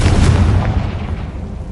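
A Confringo blasting spell goes off in Hogwarts Legacy with a loud, deep boom that swells briefly and then fades into a rumbling tail.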